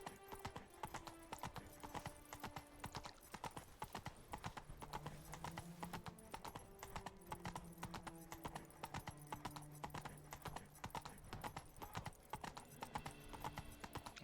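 A horse's hooves clip-clop in a steady, even rhythm in The Witcher 3, with game music tones underneath and an occasional whinny.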